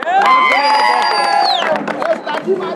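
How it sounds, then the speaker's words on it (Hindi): A lively crowd cheers and whoops loudly, voices rising together in a burst of enthusiasm, with some clapping mixed into the noisy, close-up roar. "जोरदार तालियां उस्ताद अख्तर के लिए"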